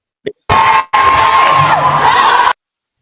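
A large crowd of people shouts and cheers together in loud, sustained bursts, close and overwhelming, broken by a brief pause before swelling again and stopping abruptly.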